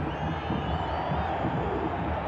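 Dense, steady roar of a huge Pumas UNAM home crowd filling a 50,000-seat stadium during a Concacaf Champions League round-of-16 second leg against Saprissa, a continuous wash of cheering with no breaks.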